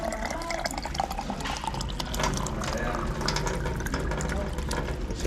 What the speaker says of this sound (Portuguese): Tá pegando água aqui, gente.